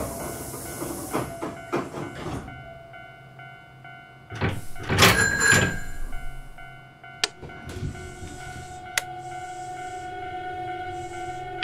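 Door closing sounds of a Hankyu 8000 series commuter train in the BVE train simulator, with hissing air, a loud burst of door motion in the middle and sharp clunks afterward, over a steady hum with no talk.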